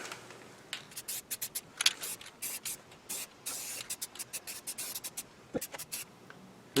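A spray can hisses paint onto a rough cast iron lathe in short close bursts of varying length, with brief gaps between them and no talking.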